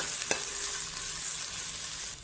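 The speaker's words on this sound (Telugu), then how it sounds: "ఇందులో పచ్చిమిర్చి పేస్ట్, ఉల్లి తరుగు వేసి చక్కగా ఫ్రై చేసుకోవాలి." Green chilli paste and chopped onion frying in ghee and oil for green chilli chicken fry, a bright steady hiss of sizzling with one sharp clink early on, close, no talking.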